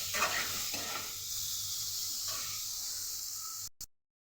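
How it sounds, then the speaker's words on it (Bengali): Pieces of pointed gourd fry in hot oil in a pan, seasoned with salt and a little turmeric, giving a steady close sizzle with stirring scrapes early on before it cuts off abruptly. "এটাকেও ভালো করে ভেজে নেব।"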